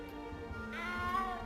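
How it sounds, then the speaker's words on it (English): Cat meowing in the Hogwarts Legacy video game, a single drawn-out mew rising toward the end, heard up close over a soft game ambience with no talk. "You don't need to be frightened, little cat."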